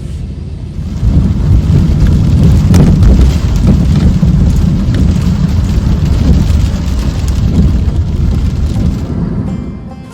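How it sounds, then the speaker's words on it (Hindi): Heavy monsoon rain pours down during a drive in the Lonavala hills, a loud, dense and steady roar with deep rumbling beneath, continuous throughout with no voices. "बारिश बहुत गिर रही है।"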